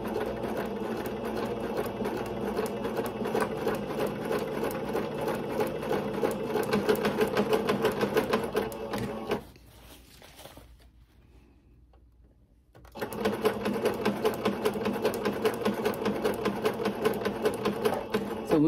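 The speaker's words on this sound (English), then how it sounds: "And we're just going to sew a straight line." A sewing machine stitches a straight seam while making ruffle tutu socks. The steady, rapid mechanical chatter runs on and on, stops for a few seconds of near silence, then starts again at the same pace.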